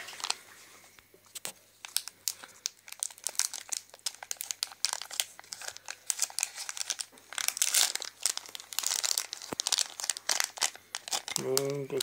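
A wrapper on a cherry glazed curd cheese bar is torn open close by, with loud crinkling and tearing plastic bursts mixed with a person talking.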